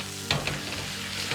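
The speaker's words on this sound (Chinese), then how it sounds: "翻炒均匀，炒出酱香味" Shredded cabbage stir-fried in a hot wok with oyster sauce and light soy sauce, giving a steady close sizzle broken by a few sharp scraping tosses of the spatula.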